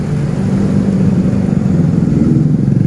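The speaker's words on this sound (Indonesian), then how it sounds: "Wih, motor cakep banget tuh." A motorcycle engine runs loud and close, a rough low drone that swells and pulses with throttle as the bike passes, alone without talk.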